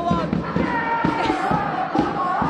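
A crowd of soccer fans gathers on a Tuesday night before a U.S. Open Cup game in Hamtramck, making a dense, steady murmur of many voices with scattered thumps and shouts close by.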